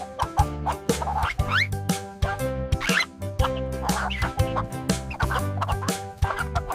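A chicken clucks in quick, choppy bursts over a dense, tonal musical backing that runs throughout.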